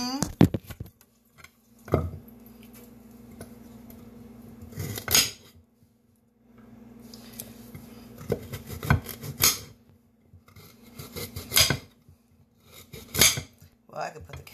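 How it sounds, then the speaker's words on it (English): Vegetables going into a pot for a pot roast bring clattering knocks of utensils and dishes against the pot, heard in scattered bursts between quieter stretches with a low steady hum and some talking throughout. "We're going to put the veggies in."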